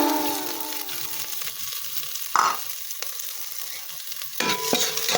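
Onion and garlic sauté in a hot pan for adobong kangkong: a steady sizzle with stirring scrapes, loud bursts as the garlic hits the oil midway and again near the end.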